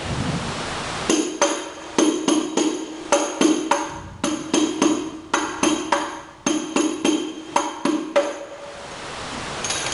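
Rhythmic hadroh frame drum strokes in a repeating pattern, clusters of sharp slaps with a bright ringing edge, played steadily over a hissy background.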